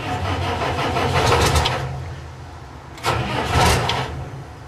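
An engine fitted with an air throttle cranks and catches in two bursts, a first roar that fades, then a second start surging into a rough, loud idle, close by with no talking.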